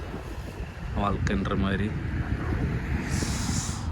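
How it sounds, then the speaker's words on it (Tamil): Cool wind gusts steadily past the microphone on a mountain road trip from Munnar to Kanthalloor in Kerala, a loud continuous rush with someone speaking over it. "நல்ல ஜில்லுன்னு காற்று,"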